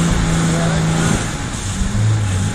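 A Jeep stuck on rock on a West Virginia off-road trail revs hard as its wheels spin, a loud sustained engine drone with a shifting pitch, while people talk over it.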